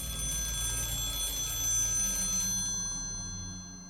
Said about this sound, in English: hear a telephone ringing somewhere in the house. Not a modern electronic ringtone, but an old-fashioned mechanical telephone.